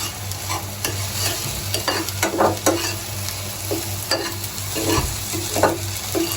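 Loud sizzling in a pan with repeated scraping strokes of a spatula stirring and breaking up an egg as it scrambles, over a low steady hum.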